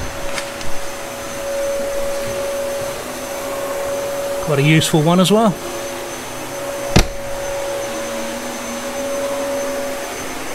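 A Hoover vacuum cleaner drones steadily nearby in a motorhome at a dealership, a constant whine that continues beneath a short spoken phrase and a single sharp knock.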